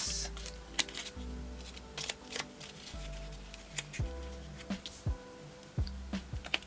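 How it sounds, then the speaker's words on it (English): A deck of playing cards is shuffled by hand at a table, a series of quick riffling rattles and soft taps close by, with a quiet room hum underneath. "Just give that a shuffle."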